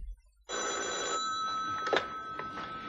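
A telephone bell rings indoors at a weather service office, a bright trilling ring starting abruptly after a brief pause and sounding clearly for over two seconds, with faint background noise.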